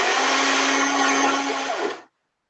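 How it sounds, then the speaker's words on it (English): A blender whirs loudly and steadily up close as it purees a slightly lumpy sauce, then cuts off abruptly at the end into silence, no talking. "So I'm just going to blend it so it's fusion noise just a little bit."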